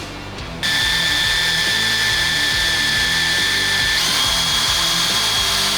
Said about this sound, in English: Got the hole drilled, now we're just gonna tap it for the bulkhead fitting.